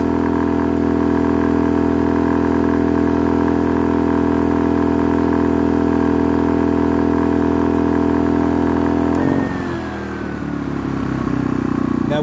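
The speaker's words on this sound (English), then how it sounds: "my only complaint at full throttle, if I let this cord go, you can see that thing flopping" A Pulsar PGD16ISCO 1200W portable generator runs loud and steady at full throttle with a constant droning hum. Near the end it dips briefly and picks back up, with faint rattling and a voice in the background.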